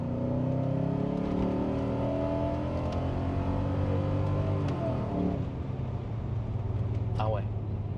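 A modified BMW 740iL's engine hums and revs from inside the cabin, pitch climbing through gears with a smooth drone, while occupants talk over it.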